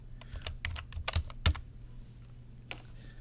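Computer keyboard keys are tapped to enter an instructor user ID on a college login page, giving a quick irregular run of close clicks with a few louder strokes, alone without speech.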